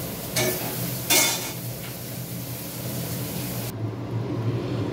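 Eggplant lightly frying with slit green chillies in a pan, a steady soft sizzle broken by two brief louder scrapes or stirs, continuing alone without talk.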